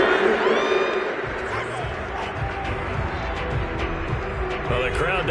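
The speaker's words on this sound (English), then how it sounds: "Well, the crowd doesn't like that." A football stadium crowd at a UFL game between the Steamers and the Texans reacts loudly after a penalty flag, with a broad roar of boos and shouts that stays steady throughout.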